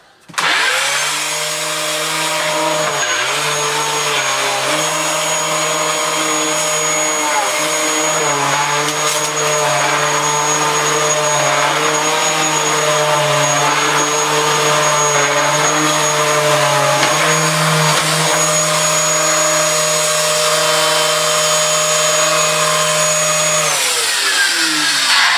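A Dyson DC07 upright vacuum cleaner with a blocked nose and dry brush roll bearings runs steadily and loudly, a continuous motor whine with a high tonal hum and slight wavering pitch, shutting down at the end.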